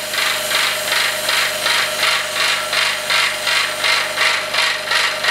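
A steady rhythmic mechanical pulsing, a vacuum pump chugging in regular beats about twice a second while drawing vacuum in a chamber to stabilise a deer antler, loud and close with no talking.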